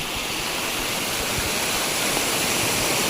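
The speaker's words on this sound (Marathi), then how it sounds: "तर जागोजागी धबधबे आपल्याकडे बघा" Waterfalls cascading from a height in the Konkan countryside make a steady, dense roar of rushing water that fills the whole stretch at close range, with no voices.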